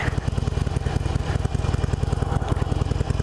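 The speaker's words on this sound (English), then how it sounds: "I am test riding a 2016 Harley Roadster. It's a Sportster chassis, 1200 V-twin" A 2016 Harley-Davidson Roadster with a Sportster chassis and 1200 V-twin engine runs on a test ride, a loud, close, lumpy low rumble with a steady uneven beat and wind rush over it, with no talking.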